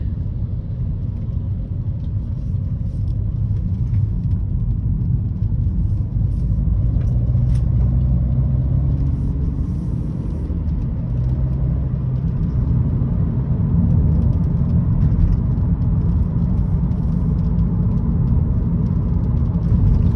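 A 2012 BMW 1 Series 118i M Sport with a 2.0 engine and Steptronic automatic, a car whose engine keeps cutting out, hums at low speed from inside the cabin as a steady, loud rumble and road noise.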